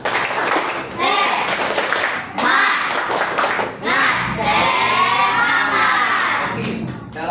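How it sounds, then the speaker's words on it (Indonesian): Indonesian schoolchildren in a classroom join in a loud rhythmic spirit clap, with energetic group shouting and chanting mixed into the clapping for the whole stretch. "Tepuk semangat."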